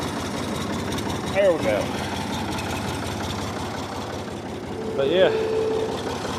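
A Ford 3000 tractor engine idles steadily with a low, continuous rumble from start to finish, close by, while someone speaks briefly over it.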